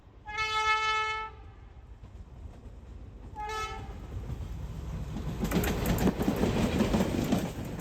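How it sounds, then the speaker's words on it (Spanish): A 60-year-old 1400 series train sounds two loud horn blasts, one long and one short. The continuous rumble of the engine and turbo follows, swelling into rolling clatter as the train moves. "lo único que sabemos es que el sonido de su turbo y bocina llevan despertando a generaciones"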